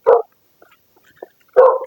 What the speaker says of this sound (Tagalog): So yun, may kumakahol na.